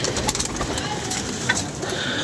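Pigeons coo on a rooftop in low, soft, repeated calls within a busy outdoor background, with a voice speaking briefly nearby.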